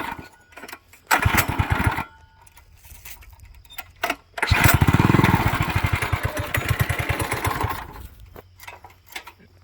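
Small Manco Dingo go-kart engine being started and revved, with short bursts and a sustained rapid-firing run that rises and fades, heard close and alone.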